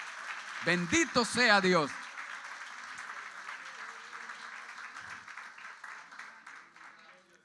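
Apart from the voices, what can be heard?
applause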